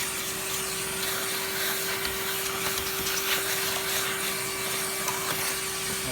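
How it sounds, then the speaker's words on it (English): A Miele vacuum cleaner runs continuously at close range with a steady tonal whine as it sucks up dust, and faint rubbing and scraping sounds come from the nozzle. "I'm gonna borrow that vacuum first"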